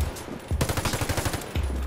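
Desert Tech MDR-C rifle firing in the Warface video game, a rapid full-auto burst of about a dozen sharp shots in close succession, loud and near, with no talk over it.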